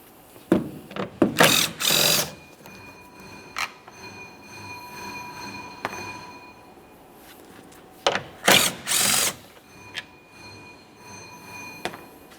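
Two 10mm mounting bolts being loosened and removed from a tail light on a 2015-2019 Subaru Outback, heard as a few short bursts of ratcheting or clicking with quiet pauses between them and no talking.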